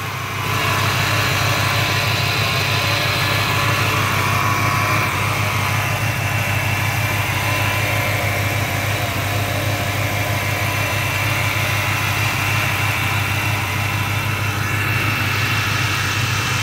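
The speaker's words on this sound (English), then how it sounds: "Sounds like the power steering pump might have a little bit of a whine" An old Ford Mustang V8 idles steadily and loudly for the whole stretch, a low rumbling throb with a faint high whine from the power steering pump running over it.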